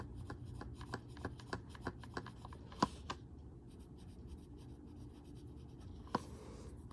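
A colored pencil mark is erased on paper in quick rhythmic rubbing strokes, soft and close, with a couple of sharper taps; no one speaks.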